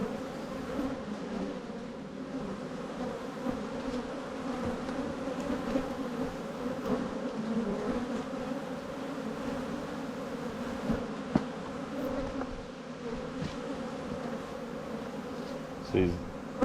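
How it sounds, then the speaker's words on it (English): A cloud of honeybees buzzing at a commercial bee yard, a dense continuous hum close around the listener for the whole stretch, with faint background noise and no speech. "There's bees everywhere."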